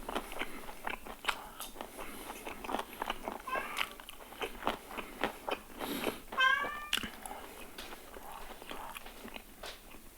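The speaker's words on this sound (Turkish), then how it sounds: "Kedim sesi geliyor kusura bakmayın." A pet cat meows a few times in a home, mid-level and close, amid biting and crunching sounds of food being chewed, with no talk over it.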